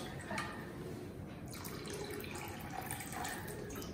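Water running from a kitchen tap, a faint, splashy trickle with drip-like clicks, steady and close, without talking.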